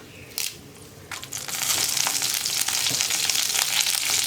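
Dried red chillies and curry leaves frying in a pan, with crackling spatter and scraping stirs that swell into a dense, loud sizzle.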